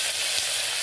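Onion, curry leaves and tomato dropped into hot oil after mustard seeds, giving a brief, steady, close sizzle with no talking.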